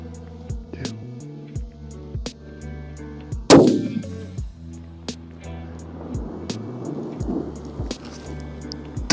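A long-range rifle shot at a Red Bull can 2,403 yards away cracks out sharply and loudly once, with a rolling echo, among faint outdoor noise and distant thumps.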